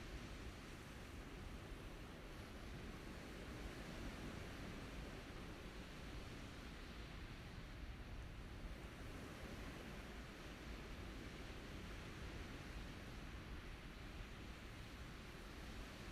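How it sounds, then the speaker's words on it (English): Strong, gusty wind roars steadily across the microphone at a Starship launch site, a constant broadband rush with no pauses. "that is just wind. It's really, really windy out there."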